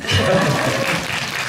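A short burst of dense applause from an audience at a film screening talk in a cinema, steady and fairly loud throughout.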